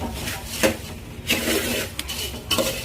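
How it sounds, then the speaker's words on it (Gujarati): A spoon scrapes and clinks against a bowl in short irregular strokes while sev is tossed into garlic puffed rice (lasaniya mamra), fairly soft and close. "હવે સેવ એકદમ મિક્સ કરી લેવાની."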